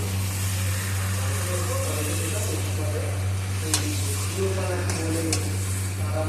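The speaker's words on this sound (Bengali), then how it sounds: "দিয়ে আবার নাড়াচাড়া করে নিচ্ছি" Chunks of spiced mutton sizzle and fry in a hot wok while being stirred, a steady close hiss running beneath a low hum, scraped by a few sharp clicks of the spatula, and a voice speaks over the cooking.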